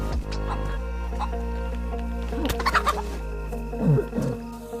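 Chicken clucking in the DayZ video game, a few short clucks and squawks over steady low in-game ambience and music, moderately close, with no talk.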